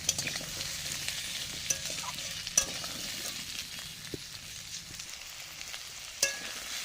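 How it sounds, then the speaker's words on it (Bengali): Cut potatoes fry with onions in a pan and are stirred repeatedly, giving a steady soft sizzle broken by occasional sharp spatula scrapes and clicks. "আলুগুলো বেশ ভালো করে ভাজা ভাজা করে নিয়েছি।"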